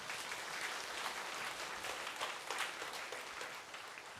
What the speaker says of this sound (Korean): 박수 한번 쳐드립시다.